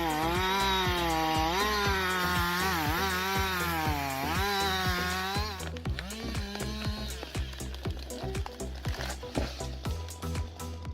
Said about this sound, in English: 560 XPI chain saw emerges as a true arborist, powered by a powerful motor